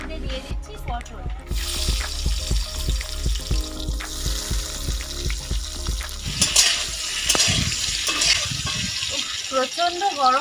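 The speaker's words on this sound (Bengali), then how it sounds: "তেল গরম হয়ে গেছে, তেলের মধ্যে দিয়ে দিচ্ছি পটল।" Pointed gourd slices frying in hot mustard oil in a wok for a village-style Bengali prawn and pointed gourd dish, giving a steady close sizzle that grows stronger and more crackly partway through, with background sound throughout.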